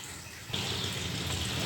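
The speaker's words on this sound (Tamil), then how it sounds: "இப்போ நம்ம இதை ஒரு வடிகட்டி வச்சு நல்லா வடிகட்டிக்கலாம்." Dissolved jaggery water poured through a strainer for sweet poli, a steady close trickle of liquid starting abruptly and running continuously to the end.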